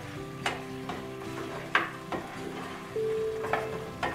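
Cream cheese is stirred into a white sauce for pasta in a pan, with a utensil clicking and scraping against the pan in irregular strokes over a soft, close bubbling sizzle.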